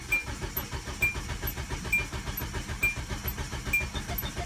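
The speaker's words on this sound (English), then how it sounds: "Okay, let me try to start again." A car engine cranking on low fuel after parking on a slope, with the starter churning in a quick, steady rhythmic chug that never catches, moderately quiet and close, with no voices.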